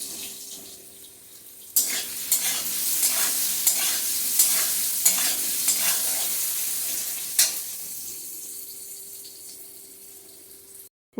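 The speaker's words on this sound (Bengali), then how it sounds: "আলুটাকে ভেজে নিচ্ছি।" Steamed potatoes with salt and turmeric fry over high heat in a kadai, a steady sizzle punctuated by several sharp stirring scrapes and spatula knocks, no voices.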